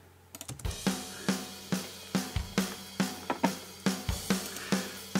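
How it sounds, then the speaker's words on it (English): A soloed EZdrummer virtual drum track plays a steady groove of punchy kick and snare hits with ticking cymbals, about two beats per second, clean and upfront with no voices. "I'm just going to solo the drums."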